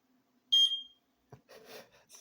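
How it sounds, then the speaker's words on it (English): One short, sharp, high electronic beep sounds, then a brief pause and some muffled low knocks and rustles. "smoke alarm."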